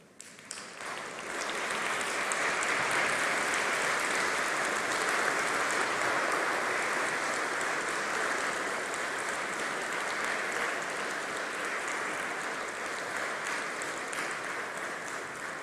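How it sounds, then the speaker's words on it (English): Graduates at a university graduation ceremony for the College of Social Sciences stand and applaud in a hall, a dense, sustained wave of clapping that builds quickly and carries on steadily for many seconds. "Please stand and applaud."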